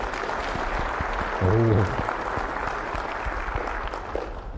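An audience at a game developers' conference claps throughout, with steady dense applause filling the hall and a short spoken word breaking in partway through.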